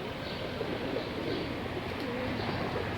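Soft, low pigeon cooing murmurs continuously over a steady outdoor background hum, fairly faint and even throughout.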